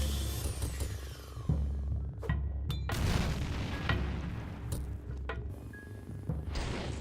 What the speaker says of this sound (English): Set him on fire and pipe bomb.